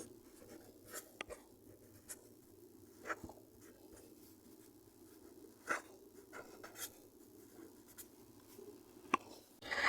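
A pen writes out a trigonometry solution on paper, soft scratchy strokes and light taps coming in short irregular bursts, quiet and close, with no talking.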